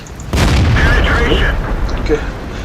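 A tank cannon fires in the video game World of Tanks, one loud booming shot followed by a rumbling tail, with a commentator talking during and after the blast.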